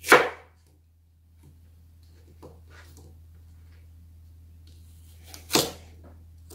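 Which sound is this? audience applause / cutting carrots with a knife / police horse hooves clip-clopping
cutting carrots with a knife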